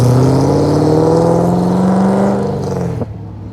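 A C6 Corvette engine revs loud and close, its deep exhaust tone holding high then easing down before the throttle drops off abruptly near the end.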